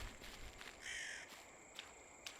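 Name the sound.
crows cawing in the video game NARIBIKIMURA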